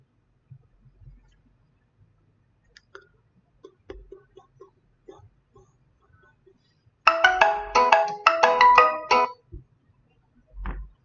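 A phone ringtone for an incoming call back plays close by as a short, bright melodic burst of about two seconds, surrounded by faint scattered handling noises and no speech.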